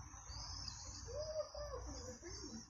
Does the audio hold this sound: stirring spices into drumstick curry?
no